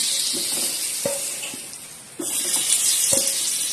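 Margarine sizzling on a hot kue cubit mold, a steady hiss and crackle with a few soft clicks that grows louder partway through.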